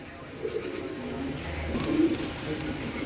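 A light-coloured pair of Mili pigeons cooing softly nearby, low throaty murmurs repeating over a quiet background hum.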